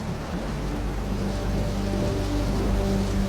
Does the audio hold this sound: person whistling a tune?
no